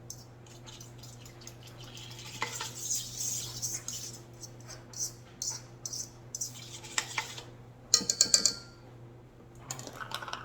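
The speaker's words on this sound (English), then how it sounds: "I'm going to give that a quick little stir with my little mini whipper that I got from Pampered Chef years ago" Small clinks and light taps of a mini whisk stirring a brown sugar mixture in a bowl, a scattered, irregular run of quiet strokes with a brief brighter burst of clatter near the end, over a low steady hum.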